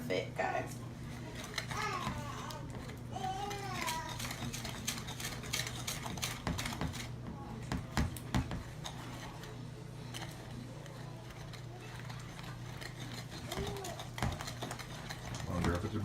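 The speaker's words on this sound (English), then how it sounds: "Now we're going to beat this all together, if it'll let me" Thick batter being beaten by hand with a whisk in a bowl for a pecan recipe, steady scraping and clinking strokes running throughout, with someone talking over it at times.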